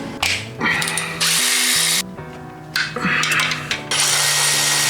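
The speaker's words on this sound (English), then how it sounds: "we've got a couple more bell housing bolts to remove, and then it can drop down" Power tools whir and ratchet loudly and close as bell housing bolts are removed during a transmission swap on a 1954 Chevy, bursts of high-pitched drilling broken by short pauses with a low mechanical hum beneath.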